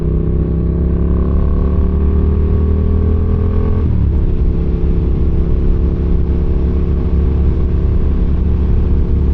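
Steady engine drone of a Yamaha MT-07 motorcycle cruising on a highway, loud and continuous with heavy wind rush, the engine note dipping briefly midway before settling back into an even hum.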